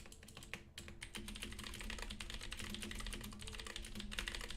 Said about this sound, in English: I'm currently typing it.